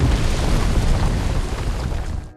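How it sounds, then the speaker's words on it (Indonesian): A loud, sustained rumbling blast fills the whole clip, dense and roaring like a big explosion, then cuts off abruptly at the end; an earthquake and fiery explosion in an animated film. "gempa bumi dan ledakan api mendorong mereka ke dalam jurang"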